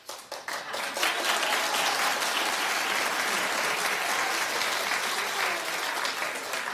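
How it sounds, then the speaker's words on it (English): A talk show studio audience claps together in a broad, sustained round of applause, starting with a few scattered claps before swelling into steady, even clapping that carries to the end. "First of all, clap if you watched."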